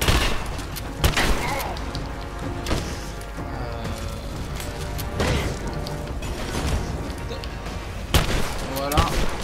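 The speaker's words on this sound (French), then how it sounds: "on va y aller au fusil à pompe" Shotgun blasts in Rise of the Tomb Raider, several sharp booming shots at irregular intervals mixed with mechanical clatter and crashing impacts, with someone talking over the gunfire.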